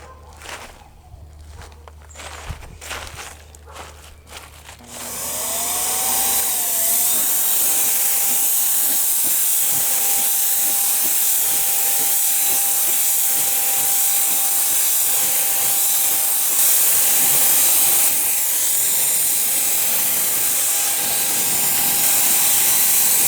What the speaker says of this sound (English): So I've been having some issues with my paint sprayer. It's like spitting out clumps of paint